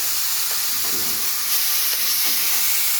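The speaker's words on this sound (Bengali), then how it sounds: "আর এই শুকনো কড়াই কিন্তু আমি ম্যারিনেট করা চিকেনটা দিয়ে দিলাম।" Marinated chicken goes into a dry pan with no added oil, giving a strong, steady close hiss and sizzle that continues for about three seconds without speech.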